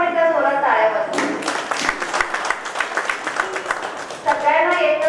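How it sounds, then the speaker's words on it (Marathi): An audience at an organic farming and environment lecture breaks into loud, sustained clapping for about three seconds, framed by a speaker's voice just before and after. "तर त्यांच्यासाठी आपण एकदा जोरात टाळ्या वाजवू."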